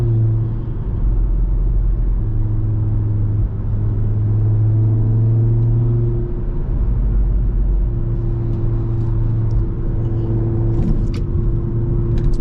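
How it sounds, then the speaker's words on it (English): Steady low engine drone of a 600HP Audi TT RS cruising at speed at night, heard from inside, with tonal hum that shifts slightly and a few faint clicks. "yeah, I'll let you listen to the car."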